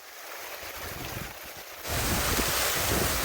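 Rushing, splashing water from a musical water dance fountain show in Mysore, a steady broadband spray that swells abruptly louder partway through and stays full to the end.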